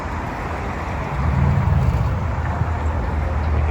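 Steady road traffic near the Brooklyn Bridge, a continuous broad rumble of passing cars that swells slightly louder midway, with no voices.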